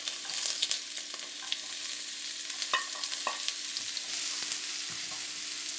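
Garlic, ginger and onions fry in a pan on the stove for a beef and tofu stir fry, giving a steady soft sizzle with a few light utensil clicks and scrapes, close and without talk.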